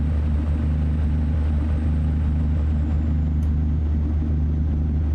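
A Kenworth T680 truck engine in American Truck Simulator hums as a steady, droning low rumble, constant and unbroken throughout, with no voices.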